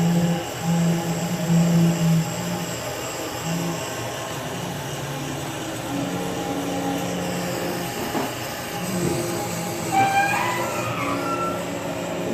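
Rear Y-axis way cover on a machine squealing as it slides, with tonal squeaks and whines over a mechanical hum, rising squeals near the end, no talk.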